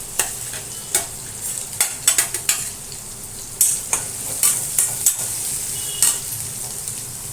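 Finely chopped onions fry with crushed garlic in a pan, a steady sizzle broken by repeated sharp scrapes and clacks of a spoon stirring, close and fairly loud with no talk.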